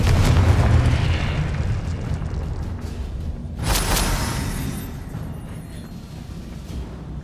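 A Confringo blasting spell explodes in the Hogwarts Legacy video game with a loud boom that rolls off into a long rumbling decay. A second sharp burst follows midway, then it fades. No speech.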